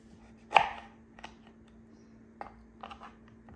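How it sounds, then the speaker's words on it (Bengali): A knife slowly cutting mangoes on a board gives a sharp close chop followed by a few softer, spaced cuts, with a faint steady hum underneath. "চল এখানে আমি আমগুলো কাটছি আস্তে আস্তে।"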